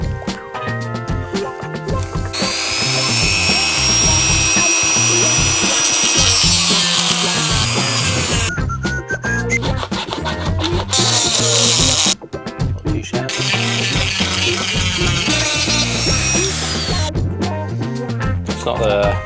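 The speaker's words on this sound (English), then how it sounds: "going in with the Dremel." Dremel rotary tool cutting a part on a Royal Enfield Himalayan 450 motorcycle, a loud high-pitched whine that bites in and rises during two long cutting passes separated by short breaks.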